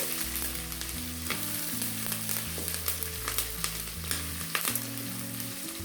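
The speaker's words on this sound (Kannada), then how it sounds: "ಕರಿಬೇವಿನ ಎಲೆ ಹಾಕ್ಕೊಂಡಿದ್ದೀನಿ. ಇದನ್ನು ಒಂದು ಸ್ವಲ್ಪ ಎಣ್ಣೆಯಲ್ಲಿ ಫ್ರೈ ಆಗಲಿ." Curry leaves fry in a little oil for avarekalu chitranna, a continuous bright sizzle running alongside prominent background music with a stepping melody, no voices present.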